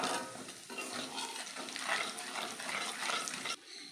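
Hot oil crackles and sizzles steadily as dry chillies and black cumin hit the pan, with a brief stirring scrape, then the sizzle drops off abruptly near the end.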